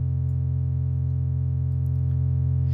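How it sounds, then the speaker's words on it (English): A Cyclic Oscillations synthesizer oscillator running at audio rate produces a steady, buzzy two-tone drone, rich in harmonics, continuous and loud throughout with no talk. "you can hear there are actually two tones in this"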